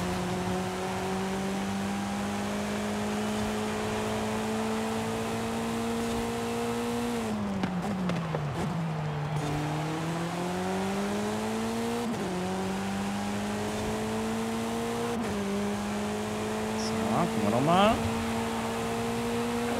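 A car engine in Forza Horizon 5 holds a steady, droning tone, rising and falling slightly with throttle changes and briefly dipping mid-drive, with a short tire squeal near the end.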